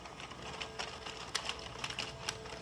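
An Addi knitting machine works rows of waste yarn with a quiet, continuous mechanical whir broken by light, irregular clicks and clacks, fairly soft and close, with no talking.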